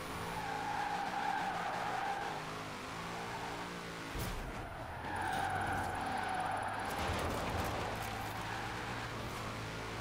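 A car drifts in a Formula Drift racing video game, with a sustained high tire squeal that rises and falls in long sweeps over a steady engine roar, loud and continuous with no talking.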